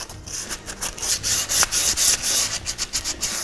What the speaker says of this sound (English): When sanding, it can be tedious